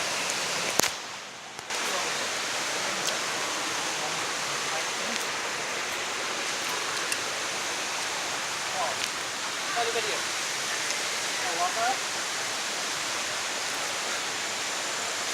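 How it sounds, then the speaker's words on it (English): Rushing water of Kakochang waterfall in Karbi Anglong district near Bokakhat, a steady broadband roar that holds nearly constant throughout, with a brief dip near the start and faint voices occasionally under the noise. "The waterfall of Kakochang."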